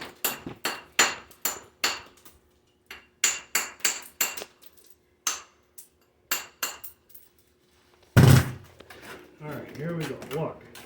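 A bricklayer's steel trowel chops and trims a brick in a run of sharp, close clinks and knocks in quick bursts, followed by a heavier scrape of mortar near the end.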